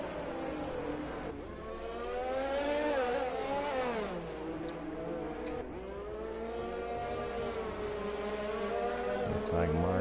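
Formula 1 race car engines roar in the F1 2020 video game at the Singapore Grand Prix, several high-pitched whining engines rising and falling through gear changes, loud and continuous under a commentator's voice.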